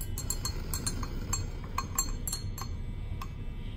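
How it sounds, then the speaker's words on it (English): A glass stirring rod clinks against the inside of a glass vessel while stirring a bright purple solution, a quiet series of irregular light taps and chinks over a low background hum. "I'm going to use a stirring rod to stir it up to help me dissolve it."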